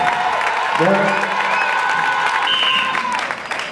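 A church congregation at a seminar loudly acclaims and applauds together, a dense wash of clapping and cheering voices with tonal shouts rising over it, steady and close throughout.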